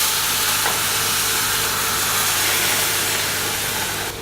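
Boiled milk poured onto roasted semolina for South Indian paal kesari, a loud steady hiss and sizzle that rises at once and holds evenly, with a faint background hum.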